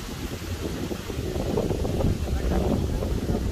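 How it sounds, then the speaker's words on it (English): Strong outdoor wind buffets the microphone in a continuous, rough low rumble that grows slightly stronger midway. "it's very windy"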